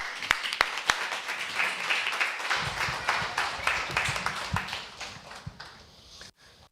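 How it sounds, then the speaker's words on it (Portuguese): Audience clapping to welcome a speaker at a Black Consciousness Week event, fairly faint and mid-distance, with a few sharp nearby claps early on and a scattered, uneven patter that fades out. "Uma salva de palmas."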